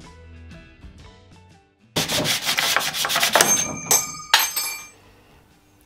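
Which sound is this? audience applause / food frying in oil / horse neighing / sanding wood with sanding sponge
sanding wood with sanding sponge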